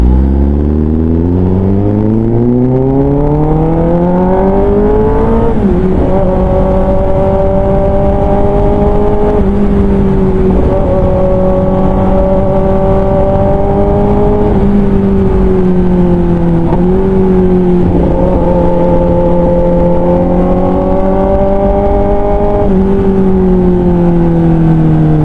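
A carbon-loaded, modified Kawasaki ZX-10R motorcycle engine roars loud and close, climbing through the revs and shifting gears several times, the pitch rising and dropping in steps for the whole stretch.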